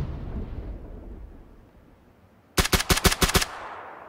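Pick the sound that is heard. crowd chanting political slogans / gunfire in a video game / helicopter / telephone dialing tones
gunfire in a video game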